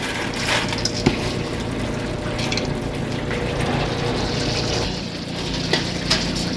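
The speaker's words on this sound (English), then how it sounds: "So I'm going to just pour my rice in right about now." Dry rice pours into a cooking pot for Trinidadian pelau, a steady grainy hiss running continuously through the clip with a few small knocks, close and fairly loud, no talking.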